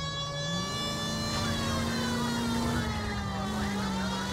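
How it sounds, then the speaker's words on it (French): A police car siren wails steadily in the 1940s Los Angeles crime game L.A. Noire, a sustained rising and falling electronic tone alongside a low engine drone, fairly faint and with no talk. "Appuyez sur H pour activer la sirène."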